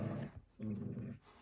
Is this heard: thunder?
no